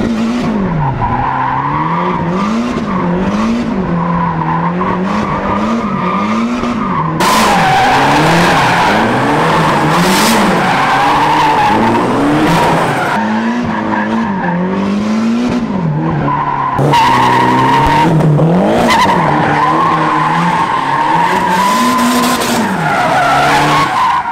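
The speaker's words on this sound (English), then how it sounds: "Just a little bit of tire warming." A car drifting in a crowded open lot to warm its tires, with loud continuous tire squeal and skidding over a revving engine that rises and falls in waves, close up and sustained throughout, no talking.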